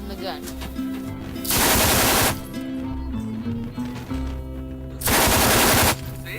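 Rifle fire comes in two loud, dense bursts of rapid shots, each lasting under a second, with quieter background and faint voices between them.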